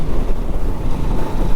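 Strong gusting wind buffets the microphone while riding a 2024 Harley-Davidson Nightster motorcycle on a windy day, a loud, steady rumbling roar with no speech.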